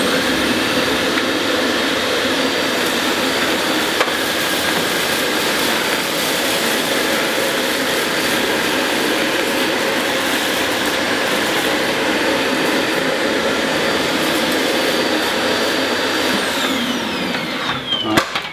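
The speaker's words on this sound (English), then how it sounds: "I'm going to move the machine over to this side and use it with just the" A Dyson Light Ball vacuum cleaner runs on suction only with the brush bar switched off, giving a loud, steady whooshing roar that holds for the whole stretch without speech.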